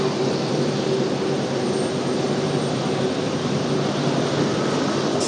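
Steady airliner jet engine roar at an airport runway, a continuous, even, broadband rumble with a faint high whine, heard from a distance with no talk.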